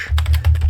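Quick run of keystrokes on a computer keyboard while typing a Linux terminal command, about six close, crisp taps in under a second, alone.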